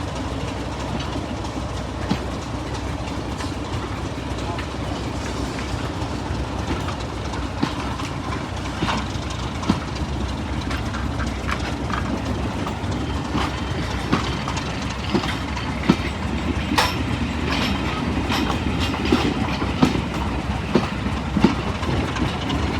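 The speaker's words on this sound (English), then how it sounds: "As the train heads off towards Norden, we can see D6515 at the rear." A diesel-hauled train on the Swanage Railway, locomotive D6515 at the rear, rumbles off toward Norden, a continuous low roar with scattered clicks and clacks growing slightly louder over time, no voices.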